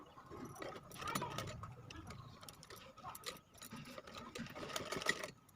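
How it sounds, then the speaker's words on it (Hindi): A sewing machine stitching a cloth bag made from a pair of trousers, running in a steady rapid mechanical patter with slight speed changes, close but fairly quiet throughout. "जिस साइड से हमें खुली रखनी है थैली उसी साइड पर ये मैं कपड़ा पलट के निशान लगा सिलाई लगा रही हूँ।"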